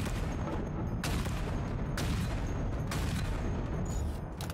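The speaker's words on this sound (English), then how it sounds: "I thought the explosion would have killed the other" Booming blasts in Halo Infinite campaign combat, three heavy broadband bursts roughly a second apart over continuous loud rumbling battle noise, no voices.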